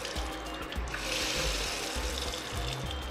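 A washbasin faucet with a clogged filter head runs with uneven water pressure, its steady rushing stream swelling and easing over low rumbling, close by.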